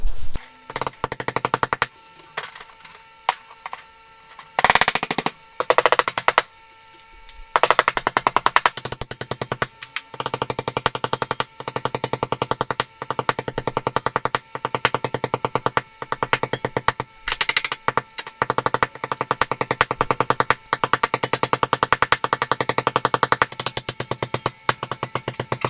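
Metal strap nailed onto a plywood shear wall during a home gym remodel, with rapid hammering bursts and rattling strikes in quick clusters and short pauses, loud and close throughout.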